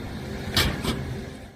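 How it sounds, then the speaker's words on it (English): A road buckling gives a sharp snap, and a moment later a car crashes with a second, fainter impact. Both hits are brief bursts over a steady background rumble, recorded from some distance. "So the first snap is the road buckling, and the second sound is the car crashing."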